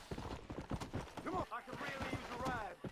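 Horse hooves clip-clop in a video game, a quick run of close, uneven knocks with a brief whinny-like tone, mixed with a voice talking.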